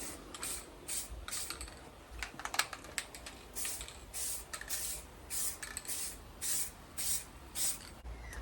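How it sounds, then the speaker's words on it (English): Primer paint being sprayed onto a wall in short practice passes, quiet hissing bursts repeating with brief gaps, close and soft, with no voices. "So I'm just about to apply the first bit of primer."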